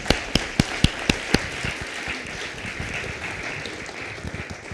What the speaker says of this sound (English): So let's give a little round of applause for our cohort.